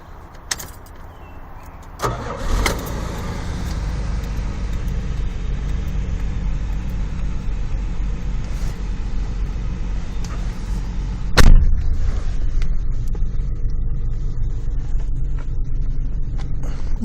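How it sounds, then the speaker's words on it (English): A classic car on the M-body platform turns over with a brief crank, catches, and settles into a steady, even idle that runs on near and constant, with one sharp knock or clunk partway through. "Start the car."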